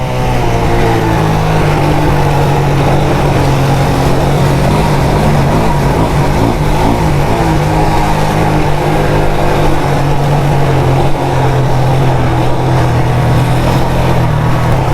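A motorcycle engine revs hard at full throttle in heavy Half Way Tree traffic in Jamaica, a loud, steady, continuous roar that never lets up.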